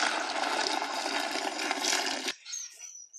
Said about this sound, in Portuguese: Agora eu vou pôr a água aqui